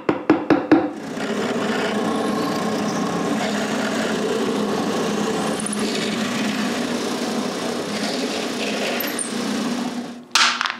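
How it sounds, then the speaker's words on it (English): A drill bores pilot holes into the side of a handmade wooden cremation urn, a steady whirring, grinding hum running near and loud for about ten seconds, bracketed by a few sharp knocks at the start and end. "mark where to drill the pilot holes in the sides and drill them"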